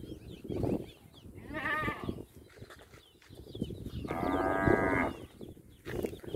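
Bullocks moo loudly twice, a long low call followed later by a longer drawn-out bellow, amid faint bleating and general farmyard ambience with no speech.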